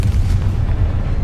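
A Confringo spell blast in Hogwarts Legacy lands as a heavy, loud, low boom that rumbles on densely through the short moment, with no talking over it.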